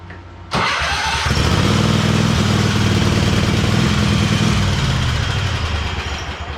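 A Craftsman Pro lawn tractor engine catches abruptly after a short crank and settles into a loud, steady running chug close by, with no voices.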